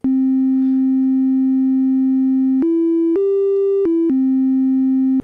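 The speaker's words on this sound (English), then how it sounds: "And we get this smooth, curvy sine wave." Arturia MiniBrute 2 synthesizer oscillator playing a pure sine wave, a smooth steady tone that steps up in pitch twice and back down, loud and sustained with no talking.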